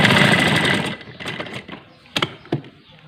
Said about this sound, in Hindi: चारों तरफ में आधा इंच सिलाई करूंगा